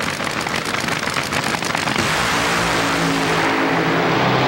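Castrol GTX Oldsmobile funny car on a 1987 NHRA drag strip, engine roaring loud and broadband, a sustained blast that shifts toward a deeper, tonal rumble as the car pulls away, with no voices.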